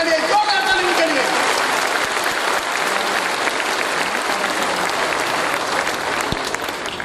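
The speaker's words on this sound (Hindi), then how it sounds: "जोरदार ताली सर उनके लिए, जोरदार ताली उनके लिए" Loud, continuous applause from an audience cheering a speaker fills the room, strong throughout and easing slightly toward the end, with a voice faintly audible beneath it.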